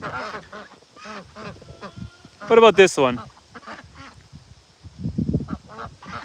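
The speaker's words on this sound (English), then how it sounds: "And look at the beautiful ducks." Ducks on a homestead give loud honking quacks in a brief cluster near the middle. A person talks casually before and after them, and further bird calls come in faintly toward the end.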